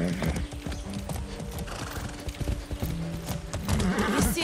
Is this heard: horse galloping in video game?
yes